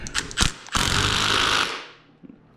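An impact wrench fastens the front wheel of a 2016 Honda CRF 230F motorcycle, first a few short rattling bursts, then one sustained loud buzzing hammer about a second long that cuts off, heard alone and close.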